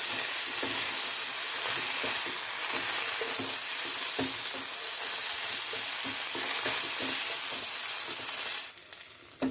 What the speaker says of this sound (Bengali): বেগুনগুলো দিয়ে আবারও খানিকক্ষণ ভেজে নিচ্ছি।